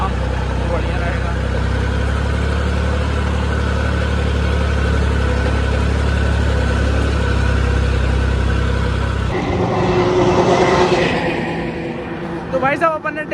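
A tractor idles where mung beans are to be weighed, its low, steady diesel rumble running for about nine seconds before it cuts out, giving way to voices and other noise.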